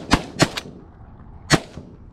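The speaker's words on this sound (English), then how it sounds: "Get ready to shoot, Mac." Shotgun blasts during a late-season duck hunt for wigeon and pintail, three sharp reports in quick succession followed by one more after a short pause, loud and close in an open outdoor setting.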